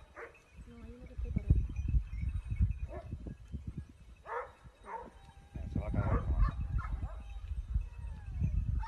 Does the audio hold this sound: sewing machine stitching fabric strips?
no